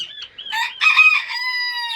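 A young ash-grey Serama rooster crows close by, a loud drawn-out cock-a-doodle-doo with a rising start and long held final note.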